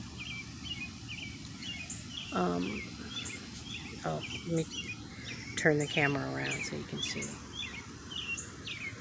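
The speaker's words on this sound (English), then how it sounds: "And there's a bird chirping." Small birds chirp repeatedly through a lush, overgrown backyard, their high tweets fairly near and steady beneath a person talking.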